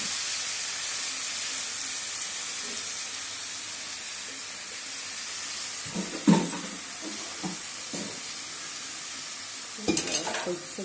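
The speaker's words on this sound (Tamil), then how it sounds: "இப்போ நல்லா அதை வதக்கி விடணும்." Grated beetroot sautéing in a pan for a Tamil-style beetroot poriyal, a steady close sizzle and hiss throughout with a few scraping stirs of a spatula near the end.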